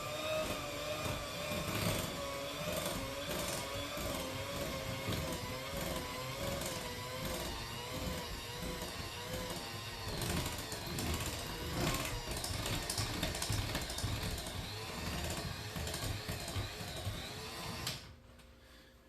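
Electric hand mixer running on low through cowboy cookie dough, a continuous close whirring drone with a faint rhythmic wobble that lasts nearly twenty seconds before stopping abruptly.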